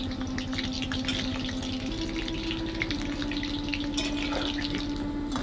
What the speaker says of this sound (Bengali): এখন আমরা এটাকে হালকা আঁচে বেশ কিছুক্ষণ ধরে ভেজে নেব।